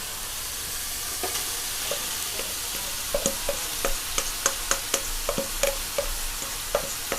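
Shrimp paste rice with egg being stir-fried in a pan, with a steady sizzle beneath a rhythmic series of sharp spatula scrapes and clicks that quicken toward the end, close and fairly loud, with no talking.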